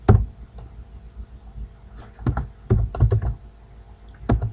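Scattered keystrokes on a computer keyboard, close and crisp, arriving in short clusters of clicks with quiet gaps between them.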